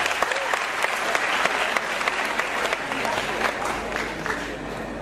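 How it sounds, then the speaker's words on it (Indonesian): An audience at a gathering with Cak Nun claps for Hanafi Rais and a guest, dense sustained applause that stays strong and slowly thins toward the end. "Tepuk tangan untuk beliau berdua."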